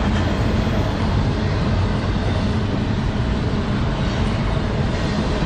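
A train rumbles steadily past at Stones River National Battlefield in Murfreesboro, Tennessee, a constant loud roar of wheels on rails that holds for several seconds.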